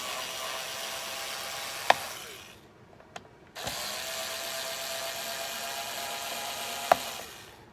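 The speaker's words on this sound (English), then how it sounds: "So take 3 screws out on your fan here." A screwdriver backs screws out of the fan in a Dell Latitude 5420 Rugged laptop, giving a close, continuous whirring buzz with a brief pause in the middle and a few sharp clicks.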